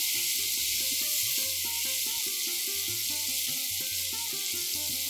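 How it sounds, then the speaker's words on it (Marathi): Cumin powder, coriander powder and homemade garam masala sauté in a pan with a steady, soft sizzle and hiss, while tuneful background music plays over it throughout. "थोडीशी मी जिरा पावडर, थोडीशी धणा पावडर, थोडा घरगुती गरम मसाला हे घालून परतून घेते"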